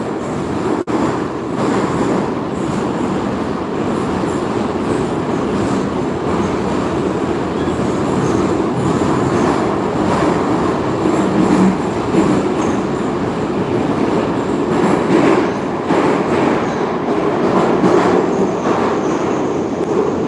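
A St Petersburg Metro Green Line (Line 3) train running underground, a loud continuous rumble and roar with rhythmic wheel clatter and faint squeal, heard from inside the carriage for the whole stretch.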